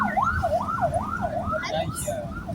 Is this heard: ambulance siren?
yes